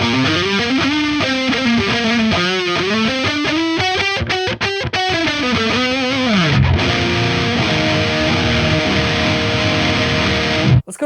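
Heavily distorted metal electric guitar on both pickups of a $199 guitar, loud sustained notes and sliding bends ringing out, ending in a held chord with a brief abrupt cutoff, no talking.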